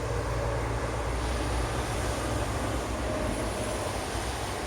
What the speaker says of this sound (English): Oh, a train!